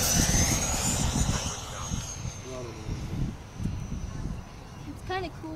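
Freewing B-2 RC model jet making a gear-down pass overhead, a steady rushing whine of ducted-fan jet engines that fades as it goes by, with voices talking over it.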